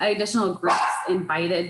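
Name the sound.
dog barking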